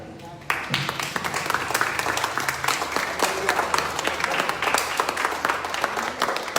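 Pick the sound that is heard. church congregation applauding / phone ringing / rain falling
church congregation applauding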